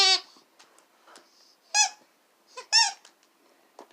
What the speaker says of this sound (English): So it don't squeak in the back, only squeaks in the front.